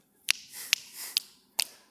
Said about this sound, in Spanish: Chasquidos.